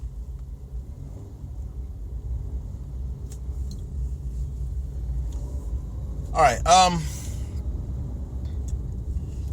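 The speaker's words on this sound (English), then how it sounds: "Traffic here they're working on the road here." Road traffic surrounds a car stuck on the interstate near roadworks: a low, continuous engine and road rumble fills the background while someone briefly speaks.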